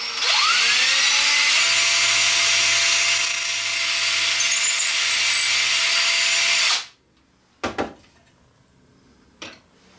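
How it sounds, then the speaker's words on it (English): A power drill bores pilot holes through countersunk holes in a wooden doorway shelf board, one loud steady whine for about seven seconds, then stopping, followed by a few brief knocks and handling clicks. "we're just going to drill a pilot hole right through our countersunk holes that we already did"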